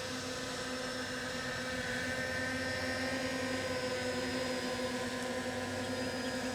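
A Veeniix V11Air budget drone hovers in place, its propellers giving a steady, even whine with a constant tonal hum that holds unchanged throughout, moderately close and alone.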